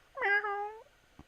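A cat gives a single clear, close meow lasting under a second, with a faint small click after it.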